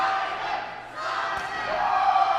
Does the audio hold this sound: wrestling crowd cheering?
yes